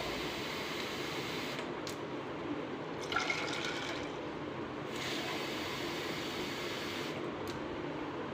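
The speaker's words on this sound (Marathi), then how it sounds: "आता मी राजमा जेवढा आहे त्याच्यात दुप्पट पाणी घालणार आहे।" Water pours steadily from a vessel onto washed kidney beans in a pot, a continuous soft rushing fill with a few brief breaks, close and alone.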